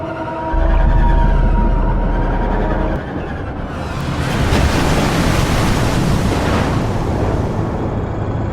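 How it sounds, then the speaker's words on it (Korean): A loud rush of turbulent water builds and surges in a scene from the film 1408, a dense churning roar like rapids sweeping everything along. "그렇게 급류에 휩쓸리게 된 엔슬"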